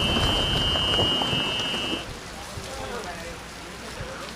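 Heavy rain pours near a grandstand tent at the FIFG FootGolf World Championship in Acapulco, a loud, dense patter that eases a little halfway, with a high tone in the first half and faint crowd murmur.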